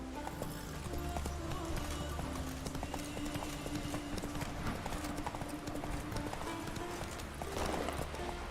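Horse hooves clip-clop steadily in The Witcher 3 as the horse trots along, a continuous rhythmic clatter over a bed of game music and ambience, with faint speech mixed in.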